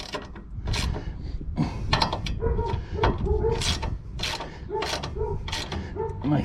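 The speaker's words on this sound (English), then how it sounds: "Make sure you torque them down properly with your ratchet." A ratchet tightens upper control arm bolts on a 2005 Mazda Bravo / Ford Courier V6 ute, giving a steady close-up run of clicking mechanical strokes with brief pauses between pulls.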